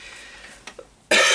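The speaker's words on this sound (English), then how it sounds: "I swear to you, I haven't been coughing this much" A quiet, brief cough, followed by a sudden loud burst of noise that cuts in at the end.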